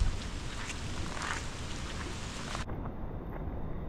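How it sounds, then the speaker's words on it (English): Steady, dense rain falls at Maracas Bay, Trinidad, a continuous loud hiss of drops that keeps going without a break. "It's raining already."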